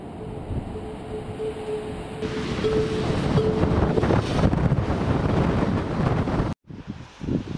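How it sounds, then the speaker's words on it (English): Steady, loud cold wind rushes and buffets the microphone outdoors in Ohio, with a brief drop to near silence before gusts resume. "today is a typical Ohio weather day. Cold, windy, blustery."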